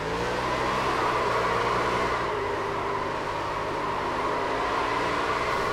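An ARCA race car in iRacing at Michigan holds a steady, droning engine roar during burnouts, loud and continuous for several seconds with no voices.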